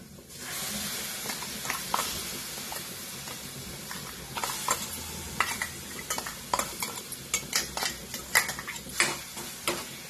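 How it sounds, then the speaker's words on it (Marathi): A spoon stirs a tomato and spinach kofta mixture in a pan on the stove, giving repeated scraping clinks against the metal over a soft sizzle, the strokes growing louder and quicker toward the end. "आता हे मिश्रण चांगलं पुन्हा हलवत राहायचं, कारण आता ह्याच्यामध्ये आपण टोमॅटो घातलेलं आहे ते पण भाजलं पाहिजे"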